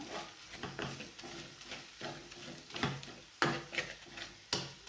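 A spatula presses and stirs an onion, tomato and egg mixture for egg bhurji in a pan. It makes close, irregular scraping taps over a faint sizzle, and a few sharper clicks come near the end.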